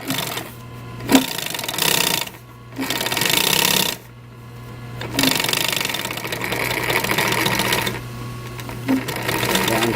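Up close, a sewing machine stitches a car headrest in short rhythmic bursts, with brief pauses between runs and a steady motor hum underneath.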